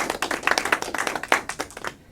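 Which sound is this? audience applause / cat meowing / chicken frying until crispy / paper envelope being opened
audience applause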